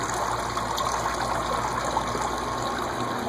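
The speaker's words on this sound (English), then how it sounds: "In case you're wondering what that noise is, it's just a fountain." A fountain runs steadily inside a building, a continuous broadband splashing and gushing wash at moderate loudness, with no talk over it.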